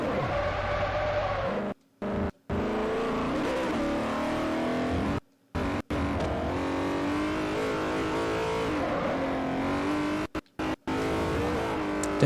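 A 2009 Bugatti in Forza Motorsport 4 roars continuously at high revs, its engine note rising and falling through gear changes with tire squeal mixed in, loud and up close, broken by a few brief dropouts.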